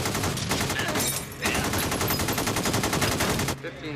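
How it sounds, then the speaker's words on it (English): AK-47 automatic rifles fire many rounds during a bank robbery shootout in North Hollywood, a loud rapid stream of shots with a brief dip partway through before the hammering resumes and cuts off near the end. "They're shooting hundreds of rounds."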